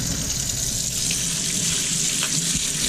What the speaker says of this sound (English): you fill it up with water